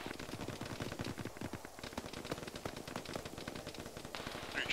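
Sustained automatic gunfire from a squad battle in the military game Arma, loud and dense with overlapping bursts and shots throughout and no clear talk.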